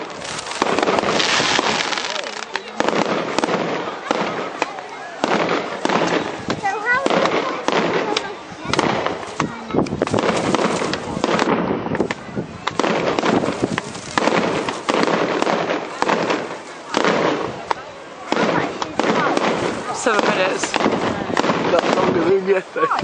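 Fireworks going off at Lands End, Cornwall: a long, dense barrage of crackling bursts and bangs, loud and continuous with brief gaps, while people talk now and then.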